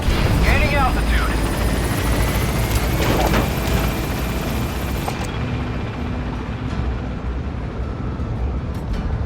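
Helicopter in Metal Gear Solid 5 lifting off from a landing zone, a steady loud rotor and engine drone filling the whole stretch, with game radio voices over the start.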